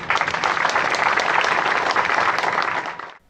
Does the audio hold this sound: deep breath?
no